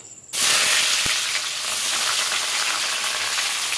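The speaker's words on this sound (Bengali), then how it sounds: "পেঁয়াজটা দিয়ে একটু হালকা লাল লাল করে ভেজে নেবো।" Chopped onions hit hot oil with whole spices and burst into a loud, close sizzle that starts suddenly and then holds as a steady crackling hiss.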